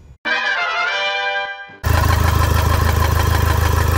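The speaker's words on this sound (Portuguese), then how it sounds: "Batidona seca no motor, não é mesmo?" A starter whines for a moment, then the diesel engine of a Toyota SW4 with a faulty injector fires up and runs with a loud, rapid, even knocking clatter close by.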